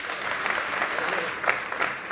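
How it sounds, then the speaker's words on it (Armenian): An audience applauds loudly at a live stage event, a dense, continuous wash of clapping with a couple of brief swells near the end. "Եկեք ծափարենք, հա, բարձր։"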